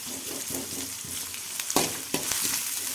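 Onions and sweet corn fry in a pan with a bright, steady sizzle, broken by a few stirring scrapes and clinks, close up and with no voices.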